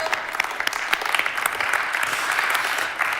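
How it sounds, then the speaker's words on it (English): An audience claps for students at a European robotics event, a close, loud burst of many hands that keeps up briskly for the few seconds shown, alone with no talk. "I guess they need applause for that."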